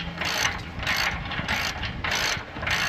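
A ratchet wrench drives a fine-thread bolt into a disc for a quick hitch, its pawl clicking in steady, evenly spaced bursts of close, crisp ticking, with no talk.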